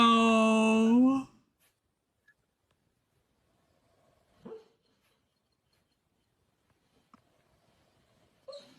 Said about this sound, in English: I love when they do their little dreaming whimpers